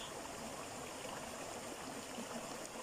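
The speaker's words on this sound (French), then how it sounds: "Je vous laisse vous imprégner du bruit de la rivière, du paysage." A river flows steadily in an outdoor landscape, giving a constant, even rush of running water with a soft trickling texture throughout. No voices are heard.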